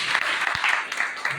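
Audience applause at a Safe Shop venue closing event, a short burst of dense, steady clapping from a crowd held at an even level throughout.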